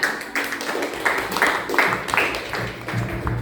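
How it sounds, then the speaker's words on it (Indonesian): A classroom of students claps for a student group after its presentation, with scattered, uneven claps in a short, moderately close burst. "Tepuk tangan untuk kelompok Mawar"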